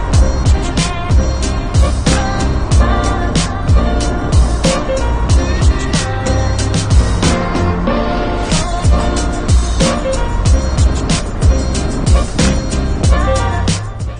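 Car driving along with a GoPro Hero 11 Black action camera mounted on it, giving steady road and engine noise with frequent thumps and knocks from the mount throughout, close and loud with no talking.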